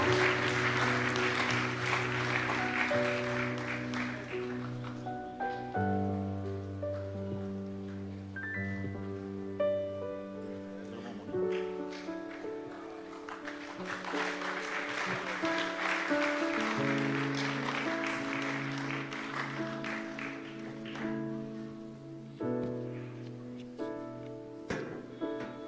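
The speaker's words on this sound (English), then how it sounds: "give our board secretary another round of applause tonight" An audience at a South Pacific Bible College 2025 ceremony applauds in two long swells of clapping, heard over steady music that plays throughout.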